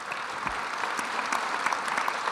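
Audience applause after a political speech, a steady patter of many clapping hands, fairly faint and distant, with no voices over it.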